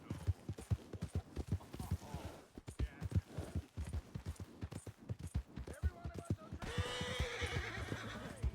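Stolen horse in the Red Dead Redemption 2 video game galloping with rapid clip-clop hoofbeats and a loud neigh near the end, with a quiet voice talking in the background.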